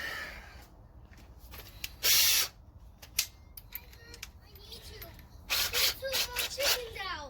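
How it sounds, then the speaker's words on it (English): A power drill whirs in a short burst, then runs again in a longer, uneven burst after a few clicks and knocks, with faint background noise between. "So let me grab the drill."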